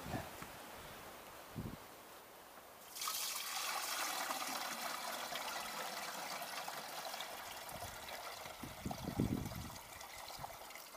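Liquid poured into a sprayer tank for spraying peach trees outdoors, a steady splashing gush that starts abruptly and keeps running, with a few rustles and knocks near the start and end.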